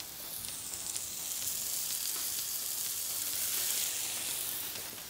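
Mushrooms sauté in a pan over high heat with a splash of white wine, giving a steady, soft bright sizzle and hiss that swells slightly and holds throughout, with no talking.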